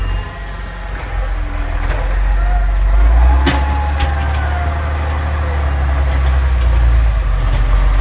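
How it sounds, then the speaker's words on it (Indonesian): Snow plow truck clearing a snowy road in Finland, a loud steady engine rumble with scraping and occasional sharp clanks, continuous throughout while a voice speaks over it. "Nah, itu adalah truk pembersih salju."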